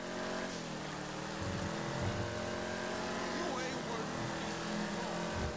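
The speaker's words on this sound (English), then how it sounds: "This is actually the Impante Dukes in GTA, and it's really fast. I mean, it's really loud, too" The Imponte Dukes muscle car in the GTA video game drones with a steady engine hum, rising and falling slightly in pitch as it cruises, fairly quiet and continuous, with someone talking over it.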